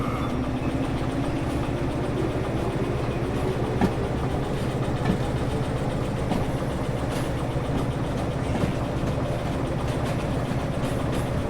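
In the Derail Valley train simulator game, a locomotive pulls a string of cars, a continuous low rumbling drone with faint clanks, steady and even throughout, with no talk.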